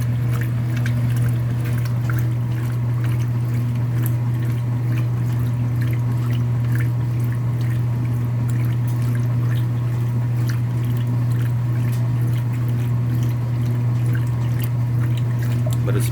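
Steady rush of water pouring and sloshing inside a 2017 Speed Queen washing machine during an extended first rinse, over a constant low motor hum, continuous and fairly loud throughout.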